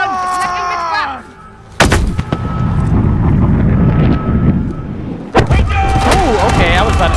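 Heavy gunfire and artillery-like blasts from a battle in Call of Duty: Modern Warfare, set in Urzikstan, pound close and loud over wind noise, with sharp bursts near the start and end and chanted voices.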